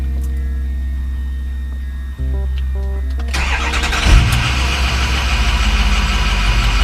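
A 2006 Ford F250 6.0 Powerstroke diesel engine cranks briefly, catches loudly after a long-crank starting fault was fixed, and settles into a steady rattling idle close by.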